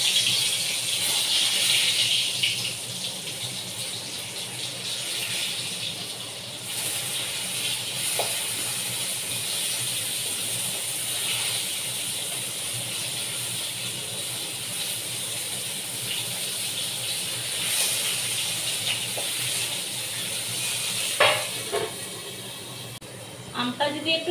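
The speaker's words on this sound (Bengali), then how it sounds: "তেলটা গরম হয়ে গেছে, তো আমি পটলটা ভেজে আগে উঠিয়ে নিই।" Pointed gourd (potol) fries in hot oil, giving a steady, loud sizzling hiss throughout with a few crackles, while a person talks over it.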